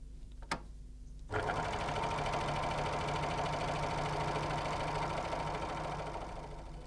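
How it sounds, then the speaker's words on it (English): A Janome 634D overlocker stitching fabric starts after a brief click and runs at a fast, steady mechanical hum, loud and close, continuing alone for several seconds. "Lower the presser foot and continue sewing."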